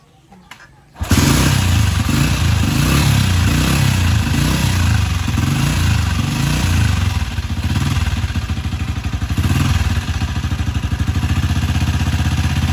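A motorcycle engine, being run during an internal engine cleaning, starts abruptly after a second of near silence and then runs loudly and steadily up close, with a rough, clattering idle and small fluctuations in pitch.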